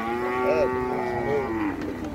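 Cattle at a livestock fair in São Benedito, Ceará, low drawn-out moos close by, two long calls over a steady crowded background with no clear speech.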